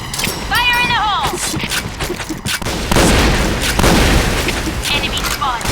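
A grenade blast in the online shooter Point Blank gives a loud, dense boom with rumbling gunfire and game sounds, close and continuous across the clip, under radio-style voice callouts.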